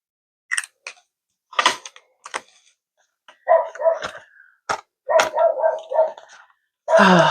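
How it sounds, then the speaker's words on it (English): A dog barking outside, short loud barks spaced irregularly across several seconds, mixed with close handling and tapping noises indoors. "they'll leave this dog out there for like 30 minutes barking and everything"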